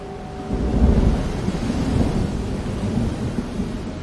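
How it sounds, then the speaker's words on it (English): Deep, rolling thunder rumbles in the distance over the ocean, with a steady wash of rain or wind beneath it throughout, swelling slightly early on and then holding at a moderate level. "Thunder echoed in the distance."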